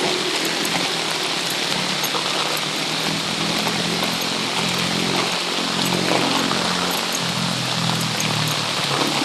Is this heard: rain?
yes